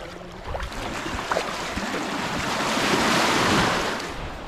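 Sea waves wash onto the fine white-sand beach of Malaguinoan Island in Burdeos, Quezon, a steady surf roar that swells louder midway, with wind buffeting the microphone and no voices.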